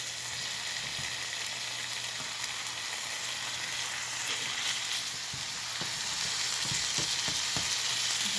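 Chicken meat for a Philly cheesesteak fries steadily in a pan, a continuous broad sizzle with occasional soft pops and crackles, close and even throughout with no talking.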